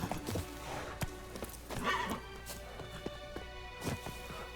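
Roach, Geralt's horse in The Witcher 3, with hooves clip-clopping in an uneven rhythm, a whinny in the middle, and quiet game ambience underneath.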